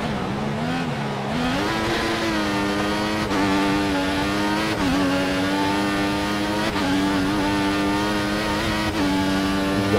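A Ferrari Formula One car in a racing video game at Hockenheim screams in a continuous high-revving whine, its pitch climbing and dropping through repeated gear shifts, loud and unbroken with no talk.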